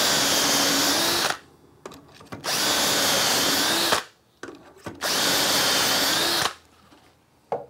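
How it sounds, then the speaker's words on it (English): A power drill bores dowel holes through a Dowelmax jig in three long, loud whining bursts, each stopping abruptly, with brief clicks and handling noise in the short pauses between. "I'm going to drill 9 dowel holes."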